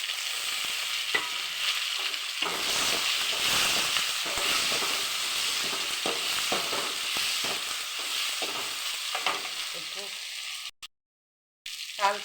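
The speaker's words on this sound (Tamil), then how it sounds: "இந்த வெங்காயம் தக்காளி எல்லாம் நல்லா வதங்கி வரும்." Onions and tomatoes sauté in a pan for a fish curry, a steady close sizzle with intermittent stirring scrapes, briefly cutting out near the end.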